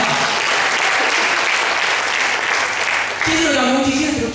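A church congregation claps steadily in dense, sustained applause that fills the room, with a voice emerging near the end.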